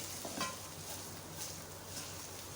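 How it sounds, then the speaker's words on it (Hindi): Garlic sautéing in a pan for macaroni keema, a soft steady sizzle with faint stirring scrapes, quiet and continuous with no talking. "अच्छी तरह से सौते करें।"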